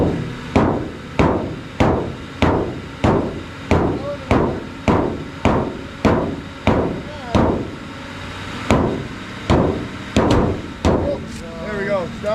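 A hammer bangs repeatedly on the body panels of a Crown Vic during body work, about eighteen loud, sharp metallic strikes in an even rhythm with brief pauses, close to the microphone.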